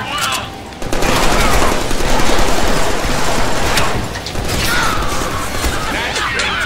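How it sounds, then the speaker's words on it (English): Machine gun fire in the Deadpool video game, a dense continuous rattle of rapid shots with mechanical clatter, loud and sustained with brief dips, game effects and voices mixed in. "Now I have a machine gun!"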